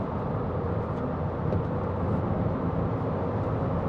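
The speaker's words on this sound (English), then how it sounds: "Lots of big lorries" Steady broadband road roar and tyre spray from big lorries passing on a wet motorway, heard continuously from inside a small car at speed, with no talk.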